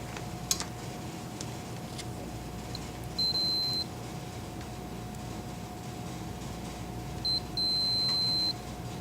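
A general continuity meter sounds steady electronic beeps while checking conductors of a Dytran 6117 sensor cable and connector, one short tone and then a longer tone a few seconds later, each clear over a faint hiss.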